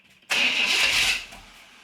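A BSG C10 project engine cranks and catches with a sudden loud whirring burst lasting about a second, then fades quickly to a quieter rumble.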